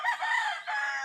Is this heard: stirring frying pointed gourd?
no